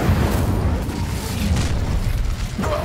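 A fire spell from the Hogwarts Legacy video game bursts out as a dense, loud, low rumbling whoosh with booming undertones that keeps going throughout.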